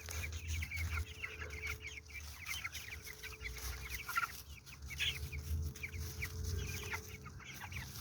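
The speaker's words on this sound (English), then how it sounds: "Chickens being chickens." Chickens cluck steadily nearby, short chirpy calls overlapping throughout with a low farmyard hum underneath; no one speaks.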